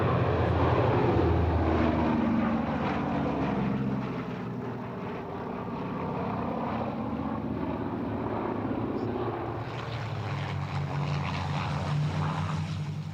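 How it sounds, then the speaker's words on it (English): A Boeing B-17 bomber flies past at a 1999 British airshow with a loud, continuous droning roar from its propeller engines that swells and eases slightly as it passes. "the B-17 was one of the most important aircraft of the Second World War"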